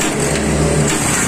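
A Kawasaki Barako 175 motorcycle engine runs loud and close, revving steadily with a rough mid-range drone for the whole short stretch.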